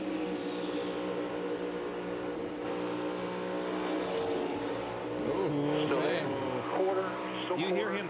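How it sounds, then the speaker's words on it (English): NASCAR stock car throttling up for position during the 2024 Goodyear 400, engine tone rising under continuous commentator talk, with other cars droning and passing in the background. "You hear him throttle up to get in that position."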